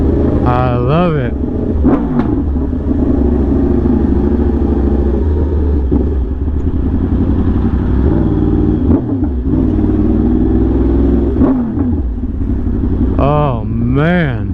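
Yamaha R1M motorcycle fitted with an SC Project exhaust, idling loud and close with a steady rumble, punctuated by several sharp throttle blips that rise and fall quickly, the strongest near the start and end.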